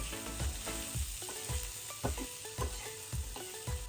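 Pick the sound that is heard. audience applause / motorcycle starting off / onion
onion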